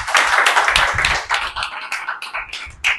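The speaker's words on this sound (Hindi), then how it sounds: "बजाओ तालियां" An audience claps at a company anniversary event in Kanpur, a dense burst of applause for about three seconds that thins toward the end.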